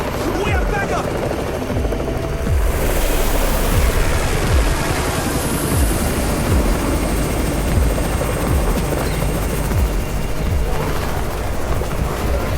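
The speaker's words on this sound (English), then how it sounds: "It's the Raven's chopper! We have backup!" A helicopter arrives in the game Undawn, its rotor thumping and droning loudly and steadily throughout, with a dense rumbling wash underneath and voices faintly mixed in.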